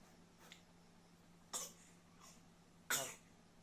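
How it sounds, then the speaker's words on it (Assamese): A child gives two short, distinct coughs a second or so apart, with fainter throat sounds between them, all quiet and close. "ঠাণ্ডাতে অকণমান কাহ হৈ আছে"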